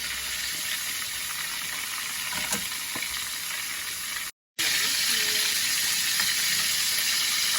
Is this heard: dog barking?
no